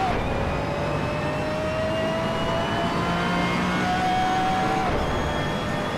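Race car in the Assetto Corsa racing game accelerating hard out of a corner in second gear, a loud continuous engine tone climbing steadily in pitch for about five seconds before a shift.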